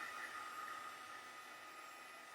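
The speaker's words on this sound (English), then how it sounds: "I'm going to hit her a little bit with the heat gun," Heat gun blowing a steady, even hiss of hot air over damp craft paper, continuous and fairly close with no break or change in level throughout.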